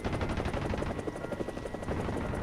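Mi-24 attack helicopter in the DCS combat flight simulator, a loud steady rotor chop with turbine whine filling the whole stretch, rapid rhythmic blade beats close by and no voices.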